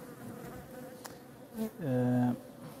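Honeybee colony buzzing steadily, a close dense drone of many wings that swells briefly louder toward the end.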